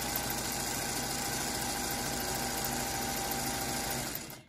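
A sewing machine runs a 1/4-inch seam on a crazy quilt paper block. It gives a loud, steady, close mechanical hum that holds without pause and cuts off just before the end.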